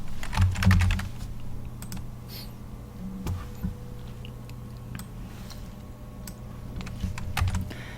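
Typing on a computer keyboard during database software setup, with a quick burst of keystrokes followed by sparse, scattered taps and clicks, close and fairly quiet, with no talking.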